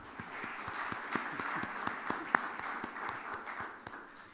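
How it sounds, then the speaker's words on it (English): An audience at a tax conference in Dubai claps for a speaker, a steady, moderately distant round of applause with individual claps audible in an even patter. "Now let us have a round of applause for our speaker."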